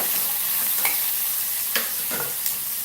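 Tomatoes sautéing with salt in a pan, a constant sizzle punctuated by three or four distinct scraping stirs of a spoon, near and unaccompanied by talk.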